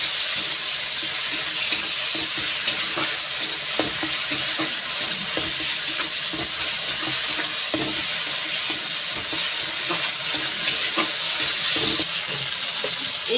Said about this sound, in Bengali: ভালো করে আদাটা ভাজা ভাজা করে নেব।